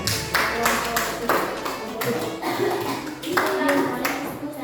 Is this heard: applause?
yes